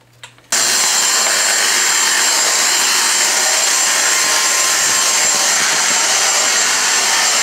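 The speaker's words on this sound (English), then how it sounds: "I'm going to use this, I think it's the mini motorized tool" A Dyson DC59 Motorhead cordless vacuum with its mini motorized tool starts abruptly after a brief quiet moment, then runs as a loud, steady high-pitched whir with a brushing hiss.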